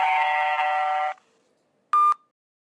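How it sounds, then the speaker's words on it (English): A telephone line to a numbers station plays its chime: a sustained bright electronic tone for about a second, then silence and a short sharp beep, loud and clean. "the phone rang as normal and the familiar chime plays"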